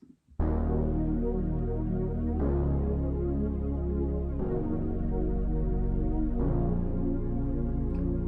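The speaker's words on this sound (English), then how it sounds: "Super cool bass, art synth bass." A thick analog synth bass, miked in, holds four long, sustained notes in a row, deep and buzzy, playing alone after a brief moment of near silence.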